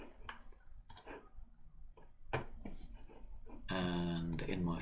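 A computer mouse gives a few small, sharp clicks between stretches of talk, followed by a brief louder burst of sound near the end.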